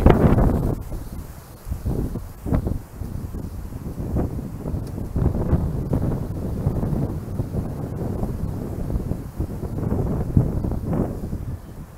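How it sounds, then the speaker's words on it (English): Gusty wind buffets the microphone in uneven bursts, a steady outdoor rush with heavier thumps now and then, no one speaking. "Ooh, it's really windy."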